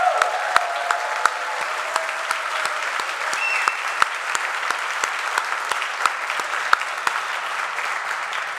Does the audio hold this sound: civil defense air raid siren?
no